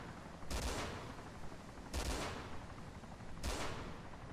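Three loud gunshots from a shooter in the DayZ video game, spaced about a second and a half apart, each a sharp broadband crack with a short decay over a steady low background.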